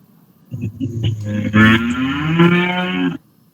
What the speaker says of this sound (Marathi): कुणाच्या गाया म्हशी ओरडताय?